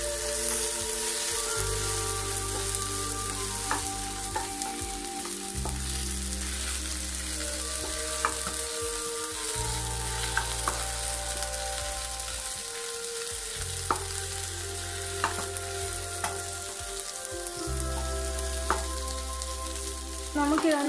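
Chopped tomatoes stirred into browned onions in a pan for egg chilli, a steady sizzle and hiss of frying with repeated scraping stir strokes and low thumps, loud and close, running throughout with no voices.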